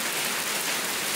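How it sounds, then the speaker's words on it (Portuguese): Heavy rain pours down at the headquarters of the Cachoeira do Antonico waterfall site, a dense, continuous close hiss of drops with no talk. "Muita chuva, galera, olha."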